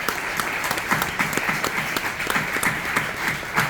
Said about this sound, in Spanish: le pido un aplauso para Joaquín porque nos ha ayudado mucho.